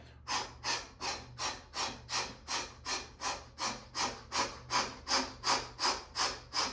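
Kapalabhati breathing during a yoga forward fold: a steady run of about nineteen sharp, forceful nasal exhales pumping at an even rhythm, close and clear with no speech over it.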